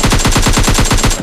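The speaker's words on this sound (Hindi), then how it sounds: "मैं एक शॉट मार के M4 का" Rapid automatic M4 rifle fire in a video game, a loud, close burst of evenly spaced shots in quick succession throughout.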